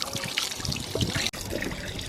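Water splashing and trickling from a fountain on a building in Rome on a hot day, a steady close patter of falling water with faint voices nearby.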